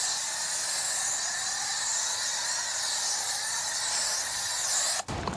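Chemical neutralizer sprayed onto car wheel rims during detailing, a loud continuous close hiss that runs steadily for about five seconds before cutting off abruptly.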